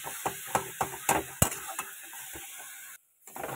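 Radish greens frying in a pan, a close sizzle broken by repeated scraping and tapping strokes of a spatula, then a brief silence before the frying sound returns.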